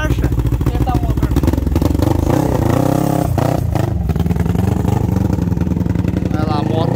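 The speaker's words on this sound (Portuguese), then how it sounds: "a moto ficou brava no combustível" A Honda CB 300 two-cylinder motorcycle running on methanol with a Twister carburetor throbs loudly and steadily up close, with rough revving and clatter; voices may be faintly mixed in.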